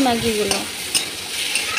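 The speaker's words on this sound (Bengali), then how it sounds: "ভালো করে নাড়াচাড়া করব, ভালো করে ভেজে নেব" Egg Maggi with cumin powder is stirred and fried in a pan, a short close sizzle with a few scraping stirs and light clicks, no voices.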